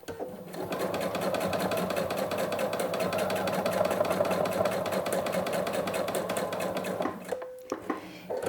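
A sewing machine stitches a seam on a coat, giving a steady, close mechanical whir that runs for about seven seconds before stopping abruptly, followed by a few faint clicks.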